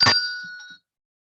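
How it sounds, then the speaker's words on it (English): A single bell is struck to open a weekly Rotary club meeting, ringing out clear and bright, then decaying over most of a second into silence. "we will start with the bell"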